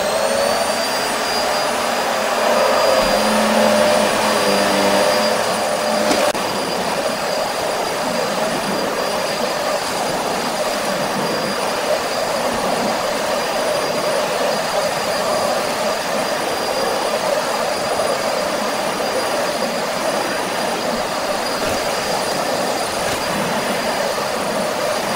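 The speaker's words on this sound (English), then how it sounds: "despite being a fairly heavy vacuum, it easily glides over the carpet" An Electrolux Versatility vacuum cleaner runs on carpet in a room, giving a loud, steady motor whine and airflow roar that holds constant throughout with no talking.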